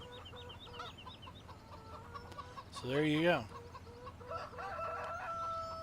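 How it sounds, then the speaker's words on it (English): Chickens and roosters in Farming Simulator 17 cluck and crow in a farmyard, with a loud rooster crow midway over steady background clucking, and someone talking briefly. "if you don't want to hear the chickens, the chickens roosters going off constantly"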